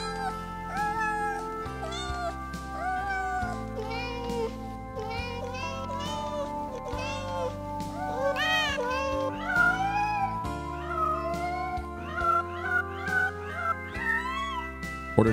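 Cats meow over and over in a cat karaoke sing-along commercial, their drawn-out, pitch-bending cries riding over steady backing music, loud and close throughout.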